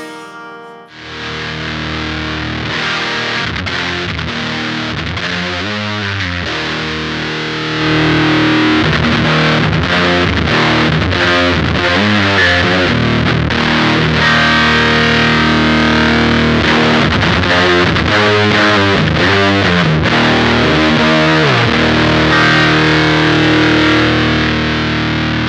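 Electric guitar played through an O.C.E. Lineman overdrive pedal, a loud, saturated distorted tone with strummed chords and riffs that grow heavier and more driven partway through, with no talking.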